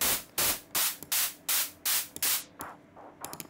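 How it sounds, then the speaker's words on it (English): Synthesized white noise rise in an electronic track, chopped into repeated sharp hissing bursts that follow a melody's rhythm, roughly eight pulses in quick succession before thinning into fainter flickers. "make my white noise rise it out of the rhythm of the melody."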